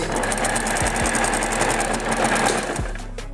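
A sewing machine stitches along the edge of a folded fabric piece for a jacket, running in a steady, close motor whir with rapid needle ticking, a few low thumps marking pauses as the fabric is guided.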